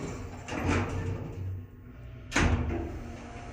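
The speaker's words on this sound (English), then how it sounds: "There goes the door." The sliding door of a 2008 Thyssenkrupp hydraulic passenger elevator at a hotel rolls along with a low rumble and ends in a sharp clunk as it closes, heard close up inside the cab.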